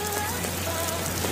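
Steady rain pours down on surfaces in a dense, continuous hiss with faint scattered drops, loud and unbroken throughout, no voices.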